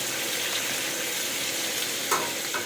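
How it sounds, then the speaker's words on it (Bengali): Potato and pointed gourd pieces frying in oil, a loud continuous close-up sizzle with a couple of brief scraping stirs near the end, no voices. "আলু পটল সুন্দর করে লাল লাল করে আমি ভেজে নেব"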